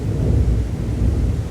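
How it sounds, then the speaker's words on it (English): Loud, close thunder rolls in a deep, continuous rumble with uneven swells throughout, with faint rain underneath and no voices. "Thunder."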